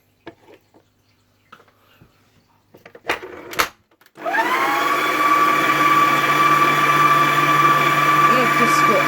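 Electric mixer beating chocolate cake batter, a steady loud motor whir that starts partway through and runs continuously, after some quiet handling clatter and brief talk.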